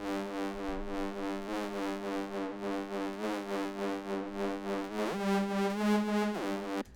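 A sustained, rich synth bass plays a steady line of held notes, shifting pitch near the end, loud and alone with no talking.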